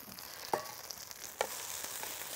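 Faint, steady sizzling of vermicelli frying in a pan, with a couple of soft clicks of stirring over the hiss.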